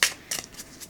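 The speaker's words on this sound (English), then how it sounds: "I think the small size makes it a bit difficult to riffle shuffle, but overhand shuffling is fine." Small oracle card deck being overhand shuffled by hand, with a quick papery riffle of card edges followed by a few softer, closer flicks as clumps drop onto the stack, no voices.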